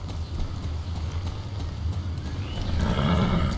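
A Mustang horse in Star Stable neighs and snorts over the steady clip-clop of hooves, with the whinny rising loudest near the end.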